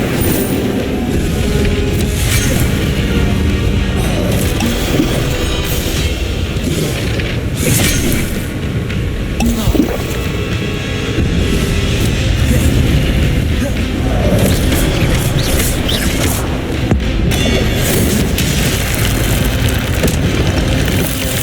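Fire spell blasts in Hogwarts Legacy boom and whoosh amid constant game combat noise, with several bursts of flame layered over a dense rumbling background mix.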